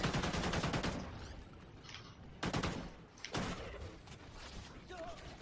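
Rapid bursts of gunfire ring out in the Call of Duty Ghosts Extinction mode as creatures shoot, coming in a few loud volleys with short gaps between them.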